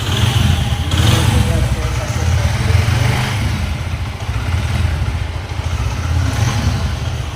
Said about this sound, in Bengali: গাড়ির ইঞ্জিন সাউন্ডটাও দেখতে পারেন।